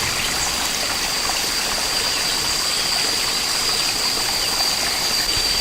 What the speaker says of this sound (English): All the water's just going to dump onto the rock and go back into the stream right here.